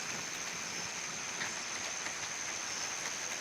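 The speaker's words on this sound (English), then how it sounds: "Rain's picking up again." Steady rain falls during a thunderstorm in Pittsburg, Kansas, an even, dense hiss of drops on surfaces that stays constant and fairly faint, with no thunder or voices.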